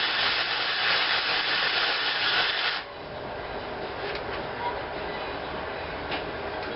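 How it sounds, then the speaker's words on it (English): Welding a shroud for a master cylinder on a reverse trike build produces a harsh, steady crackling hiss that stops abruptly after about three seconds, followed by quieter shop background noise. "Now it's time to weld it together."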